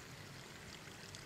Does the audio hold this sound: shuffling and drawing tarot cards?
no